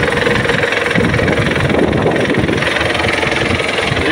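A 2015 MTZ-82.1 tractor engine idles steadily and close, with a dense, even rumbling throb and some wind buffeting on the microphone. Nobody talks.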